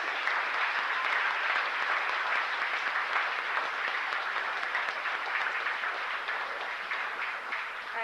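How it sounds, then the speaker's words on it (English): Steady, dense applause fills a room at a school fall sports banquet after dance team awards are announced, a sustained crowd of clapping hands with no talk over it. "Okay, now you can clap."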